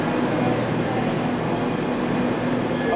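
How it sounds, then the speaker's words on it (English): A ScotRail train bound for Glasgow pulls into a station, a steady, loud low rumble and rolling hum holding for three seconds with no break. "I'm pretty sure this is the next train"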